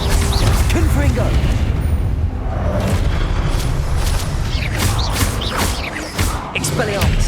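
Blasting-spell explosions in the wizarding video game Hogwarts Legacy boom loudly and continuously, deep rumbling blasts and crackling bursts layered over a dense battle din.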